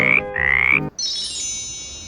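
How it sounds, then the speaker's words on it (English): Two short, loud croaking calls of a frog, up close and alone, followed by a fainter ringing tone that trails off. "Frog."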